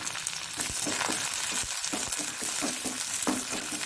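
Dried chili, cumin seeds and curry leaves sizzle and crackle in hot oil for a Mangalore-style radish pachadi tempering, a steady close spitting fry with small pops and some stirring.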